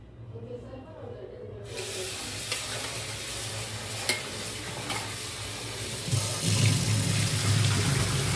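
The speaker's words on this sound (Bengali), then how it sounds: "প্রথমে আলুটাকে আমি 3-4 বার ভালো করে ধুয়ে নেব।" Under a kilo of potatoes cut into long strips are rinsed in water; after a near-quiet first second and a half, steady running and splashing water fills the clip, growing a little louder toward the end.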